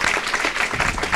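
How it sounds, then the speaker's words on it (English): Applause from the audience at the kickoff of a campaign to end youth homelessness, a short burst of dense clapping with no pauses. "if we can give her a round of applause."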